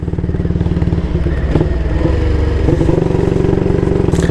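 A 1938 AJS Model 22 250cc motorcycle engine runs steadily while riding, a loud, close, rapid single-cylinder thump with a slight rise in revs midway and mechanical clatter throughout.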